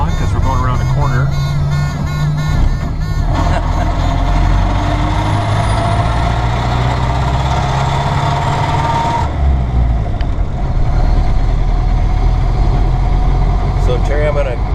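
A 1931 Ford Model A drives around a corner, its engine droning loud and steady throughout, with someone talking over it much of the time.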